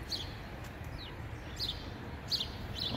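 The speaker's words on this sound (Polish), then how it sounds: "Ptaszki śpiewają" Birds sing outdoors among fallen leaves, giving four or five faint, brief high chirps spread across the span over a steady low rumble of background noise.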